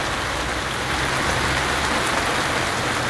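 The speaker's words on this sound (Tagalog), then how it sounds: "Lakas po ng ulan dito sa SM Fairview." Heavy rain pouring steadily at SM Fairview, a dense even hiss of water drumming on surfaces, loud and close with no pauses.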